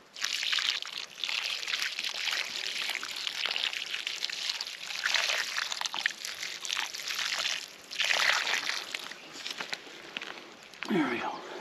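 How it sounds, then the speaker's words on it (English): Water poured from a bucket onto a freshly transplanted plant in the bush, a steady close trickle and splash running for several seconds with brief pauses. "Well, I got some water in the bucket right here."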